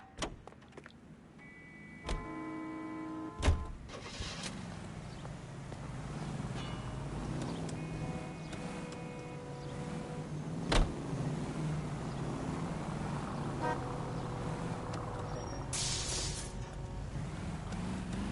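A commandeered car is driven in the 1940s-set video game LA Noire: a steady engine drone with wind, sharp clicks and knocks scattered throughout, and a few faint tonal sounds over the top, fairly quiet overall.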